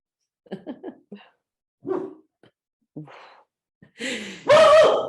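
Several short, sharp dog barks and yips in a quiet room, separated by pauses, ending in a louder whining vocalization.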